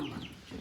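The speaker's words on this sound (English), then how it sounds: "Chicken." A chicken clucks nearby in a short, faint burst amid a messy backyard coop setting, heard alone with no talk.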